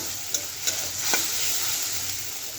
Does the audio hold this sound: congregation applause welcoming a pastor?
no